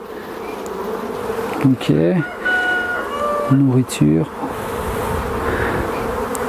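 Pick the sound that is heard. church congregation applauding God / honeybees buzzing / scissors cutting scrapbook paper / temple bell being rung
honeybees buzzing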